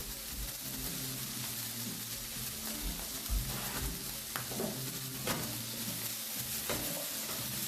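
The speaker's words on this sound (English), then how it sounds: "So I would say you're cooking your chickpeas on your pan for maybe about 3 minutes" Chickpeas fry in a pan with a continuous busy sizzle and crackle, broken by occasional scraping stirs and small clatters, fairly close and with no voices.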